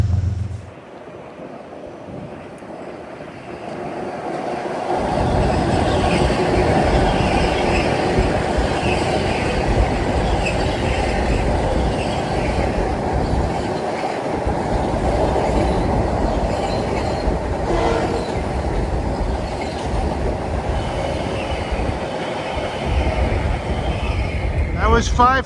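A 12-car Metro-North commuter train rolls past in Harlem, a loud sustained rumble of wheels on rails with clickety-clack and some squeal, building after a quiet start and continuing steadily to the end.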